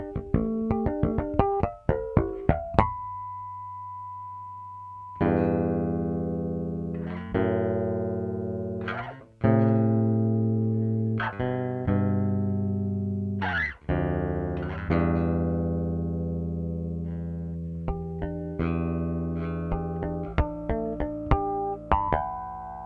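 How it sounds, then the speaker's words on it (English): Bell-like harmonics ring out on a Fender Antigua Jazz Bass through the bridge pickup, a quick run of plucked chimes followed by a sustained tone and a series of longer, decaying harmonic notes, played alone and clearly. "I'm gonna hear how these harmonics sound."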